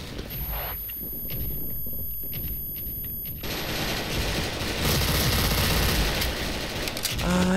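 Video game gunfire from dual MP9 submachine guns, rapid bursts of shots, then a louder stretch of fire and action later on.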